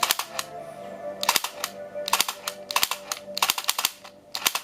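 A light gun for an Original Xbox arcade game firing in bursts, a rapid run of sharp clicky shots that pauses and starts again, close and fairly loud.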